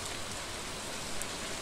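Steady rain falls in the farming video game Stardew Valley, a uniform, even hiss of drops that holds at the same level throughout, with no talking.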